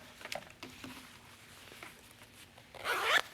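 A hidden zipper being closed on a pair of shorts gives one quick, soft rasping pull near the end, after a few faint fabric rustles and light handling taps.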